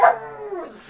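A dog gives a short, loud howl that opens strongly and then trails off into a fading, wavering tone, with no voices.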